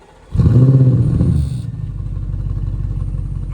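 An Audi S6 fitted with a 034 Motorsports X pipe exhaust fires up with a loud, close roar, then settles into a steady, throbbing idle rumble.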